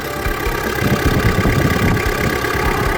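A Kubota M5000SU farm tractor from 2009 idles its diesel engine in a steady, close, rumbling chug with an even low throb and a constant mechanical hum underneath.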